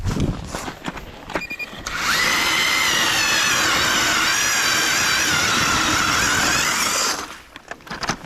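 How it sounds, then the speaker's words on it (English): A power drill revs up and bores steadily into lake ice for several seconds with a loud, whining grind, then winds down; a few knocks and clatters before and after. Northern Minnesota. "So drill a bunch of holes, let things settle"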